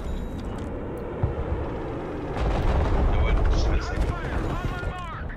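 Artillery fire mission in the Broken Arrow multiplayer war game, with a dense, continuous rumble of booming blasts and gunfire that swells in the middle, mixed with sharp high whistling effects toward the end.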